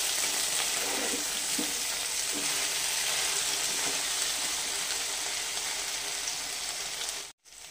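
Okra (bhindi) fries in an uncovered pan, giving a continuous close sizzle with faint stirring clicks early on, then cutting out abruptly near the end.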